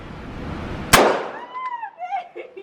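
A single sharp handgun shot at an outdoor gun range, loud and close, followed by its echo ringing off and a few faint high squeaks, with no talk.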